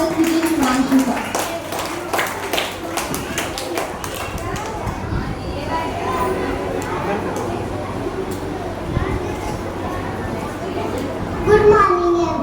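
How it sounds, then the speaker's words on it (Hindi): Applause greets someone speaker at a school Independence Day program, with a burst of clapping from the audience that tapers off while children's voices carry on underneath. "जोरदार तालियों से स्वागत कीजिए शिवांशी का"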